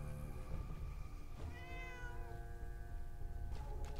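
A cat in the virtual-reality game Fallout 4 VR meows several times in a row, drawn-out, wavering cries close by over a low background hum.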